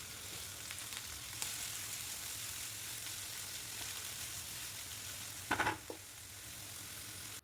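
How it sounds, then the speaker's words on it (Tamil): Onion, curry leaves and crushed garlic sautéing in hot oil after popping mustard seeds, giving a continuous soft sizzle with a brief burst of louder clatter near the end. "கடுகு நல்லா பொரிஞ்சதுக்கப்புறம் வெங்காயம் கருவேப்பிலை பூண்டு தட்டி சேர்த்துக்கோங்க."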